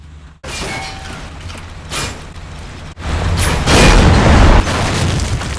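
A half-track is destroyed by explosions in the WWII strategy game Combat Mission: Final Blitzkrieg. Loud, heavy booming blasts and rumbling bursts follow one another over several seconds, swelling into a dense, roaring barrage.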